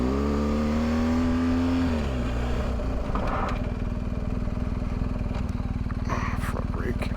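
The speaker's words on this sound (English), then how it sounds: "Trying to break traction with the back wheel and it's just not happening." A BMW R1250 GS adventure motorcycle's engine revs hard and steadily as the rider tries to spin the rear wheel, a loud continuous drone with rising and falling pitch early on, close and dominant throughout.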